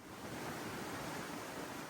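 Waves wash steadily against the side of a sailboat hull in rough seas, a continuous broad rushing surge mixed with wind noise, fairly quiet and without distinct breaks.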